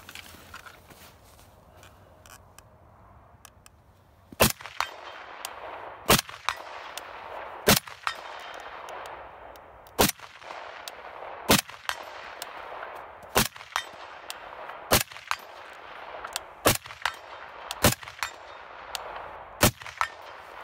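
Rifle shots ring out outdoors at a steady pace, each followed by the sharp metallic clang of a bullet striking a steel target, about ten loud impacts spread over a quiet background.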